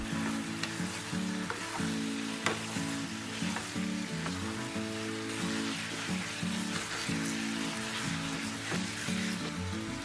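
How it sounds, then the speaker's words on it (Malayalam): Chicken pieces sizzle steadily in a hot pan for a Kerala-style pepper chicken while being stirred, a dense continuous frying hiss with occasional spoon scrapes, close and alone with no talk. "ഇനി ഇതിലേക്ക് 1 കിലോ ചിക്കൻ ചേർത്ത് ഇളക്കുക"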